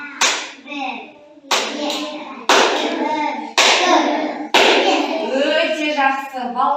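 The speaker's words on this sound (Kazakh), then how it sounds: "балалар, мен қазір сендерге шапалақ ұрам" An adult claps hands sharply for children to count, five loud distinct claps spaced about a second apart, each followed by someone speaking in a classroom.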